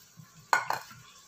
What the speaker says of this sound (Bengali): একটি কড়াই নিলাম, কড়াইতে এই যে 1 কাপ মুসুরির ডাল দিয়ে দিব